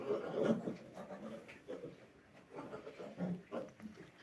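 A sow pig nursing thirteen piglets grunting in short low bursts, several grunts spread over a few seconds, close by and moderately loud.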